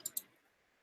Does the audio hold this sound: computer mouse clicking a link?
yes